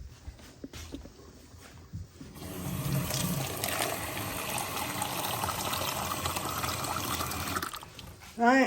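Water pours steadily into a pot while beef broth is canned in a home kitchen, a continuous splashing rush lasting several seconds, with a few clicks before it and a voice briefly at the end.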